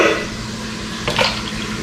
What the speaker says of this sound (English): one at a time, we're gonna pour out our evaporated milk.